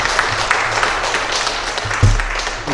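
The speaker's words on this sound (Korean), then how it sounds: "박수로 감사합니다" Applause at a church public hearing in a hall, a steady mid-level patter of clapping from the attendees, with a low thump partway through.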